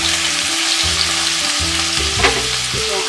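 Beef for pork and beef afritada frying in a pan, a steady loud sizzle with repeated stirring scrapes breaking it into rhythmic pulses, close up with no talking.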